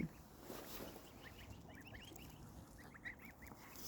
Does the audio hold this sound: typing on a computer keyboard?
no